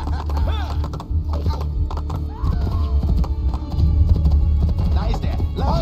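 Horse hooves pound at a gallop in Assassin's Creed II, a steady clip-clop rhythm with occasional whinnies, mixed with other game sounds and voices at fairly constant loudness.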